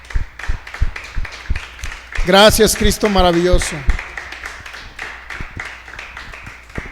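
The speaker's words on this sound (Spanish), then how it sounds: "¿Cuántos pueden darle un fuerte aplauso al Rey de Reyes?" Church congregation clapping in a steady, brisk patter of close claps throughout, with someone speaking briefly over the applause in the middle.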